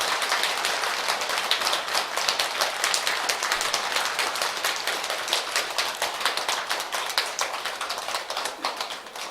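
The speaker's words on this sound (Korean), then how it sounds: "오늘 좋은 법문을 해주신 통도사 율주이신 우설 덕문스님께 한 번 더 큰 박수 부탁드리겠습니다" A Buddhist assembly at a Gwaneum memorial service applauds the Tongdosa precepts master after his dharma talk, a sustained, even wash of many hands clapping at moderate loudness, with no voices.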